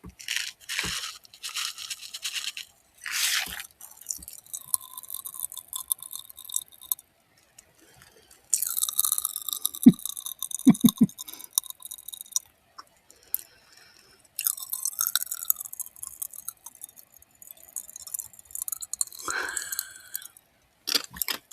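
Popping candy crackles with fizzing pops bursting in irregular flurries up close, with quiet gaps between clusters and a few louder snaps.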